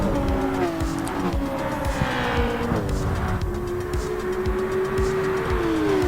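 Race cars launch at the start of a daily race in Gran Turismo 7, with a Mercedes AMG GT3 among the field, engines droning and rising in pitch through gear changes, with tire squeal and nearby cars passing, loud and continuous.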